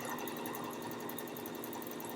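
A sewing machine stitches a fabric mask with black thread, running in a steady, continuous mechanical whir close by, with no pauses or talking.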